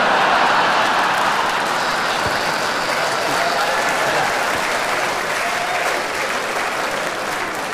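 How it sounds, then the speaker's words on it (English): An audience at a Marillion fan-convention Q&A session breaks into loud, sustained applause, a dense wash of clapping that holds steady throughout with no speech on top. "Don't applaud him,"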